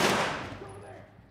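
A single pistol gunshot in The Last of Us lands loud and close at the very start, its reverberant tail fading over about a second before a brief new noise at the end.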